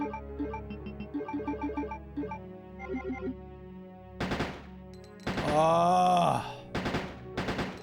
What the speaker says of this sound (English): Look at the quick shooting.